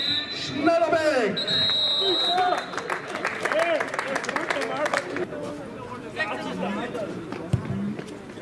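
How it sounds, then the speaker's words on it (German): Football crowd applauds a goalscorer at an SK Sturm reserves match, a sustained, moderately loud wash of clapping with cheering voices underneath. "ihr Applaus für den Torschützen mit der Rücknummer 18, David Schnellerbeck"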